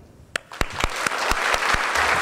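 Applause from an audience at a graduation ceremony for a girls' writing program: a few separate sharp claps at first, then quickly swelling into fuller, steadier clapping that grows louder toward the end.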